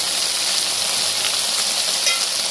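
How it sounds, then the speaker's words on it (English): Fish pieces, including the head, frying in a hot pan for a Bengali fish head dish give a steady, close, hissing sizzle that holds level throughout, with no talking. "That you have to fry the fishes, all the fishes you should fry. Let's fry it."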